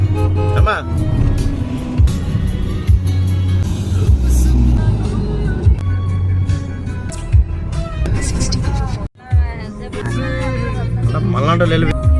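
A car cruising along a highway on the way to Eluru gives a continuous road and engine rumble with occasional swells as vehicles pass, while people talk inside over the drone.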